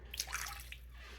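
A brief splash of water poured into a slow cooker, a short gurgling trickle over a low background hum.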